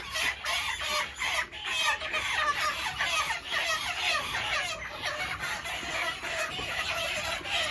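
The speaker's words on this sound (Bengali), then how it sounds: "মুরগি আনা হচ্ছে মুরগি এনে হচ্ছে এই মিটারে রাখবে" Chickens on a poultry farm clucking and squawking as they are caught, many birds calling in rapid overlapping bursts, close and fairly loud, with no talk over them.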